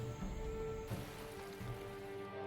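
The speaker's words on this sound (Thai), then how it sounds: "พอเขาเริ่มปรับตัวได้ฝนก็เริ่มตกหนัก" Heavy rain pours steadily through a Papuan jungle, a dense, even hiss of drops on leaves with low rumbling underneath and no voices.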